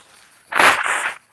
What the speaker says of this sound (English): I have to blow my nose, sorry.